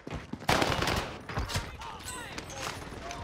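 Rapid bursts of video game gunfire, several sharp cracking shots fired in quick succession at moderate loudness, mixed with speech.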